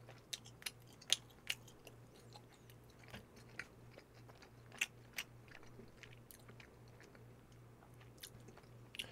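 Someone eating pepperoni combination pizza close to the mic, with a dozen or so sharp bites and crunches scattered over soft, steady chewing, all above a faint low hum and with no talking.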